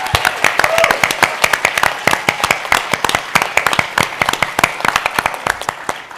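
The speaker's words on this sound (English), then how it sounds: "let's give them another round of applause." Audience applause at a summit session, dense steady clapping from a crowd lasting several seconds at close range.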